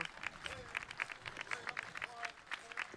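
Parade spectators clapping at a street festival: a patter of hand claps from a moderate crowd, fairly faint, under a voice speaking over it.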